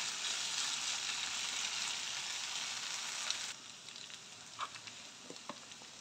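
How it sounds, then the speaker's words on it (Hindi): Potato and drumstick curry fries in oil over a high flame, a steady hissing sizzle that drops abruptly halfway through, then a quieter crackle with a few sharp pops and stirring clicks. "इसको थोड़ा फ्लेम कर तेज करके हम सोंधा होने तक भूनेंगे सब्जी को"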